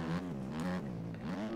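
A Kawasaki KXF 250 dirt bike engine in a motocross video game revs and buzzes at a steady pitch that dips and climbs again. The sound is quiet and comes in one short stretch with no voices.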